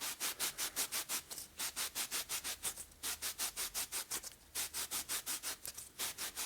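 Red scrub pad scrubbing a 1961 Harley-Davidson Sportster XLCH transmission part, fast rhythmic back-and-forth rasping strokes in bursts with short pauses, close and clear with no voices.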